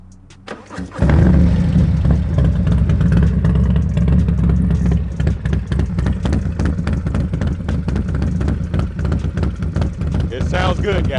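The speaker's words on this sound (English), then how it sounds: "I gotta let you hear the exhaust." A 2024 Harley-Davidson Road Glide motorcycle engine cranks and starts, then idles loudly in neutral with a deep, throaty exhaust rumble and pulsing revs throughout.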